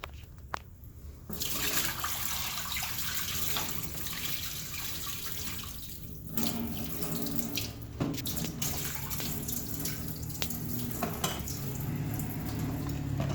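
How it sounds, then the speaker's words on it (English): Clean water runs steadily from a tap into a sink as vent parts and tubing are rinsed, with a continuous splashing rush and occasional clinks of parts against the basin, close and fairly loud. "pour this all out and rinse it off with clean water"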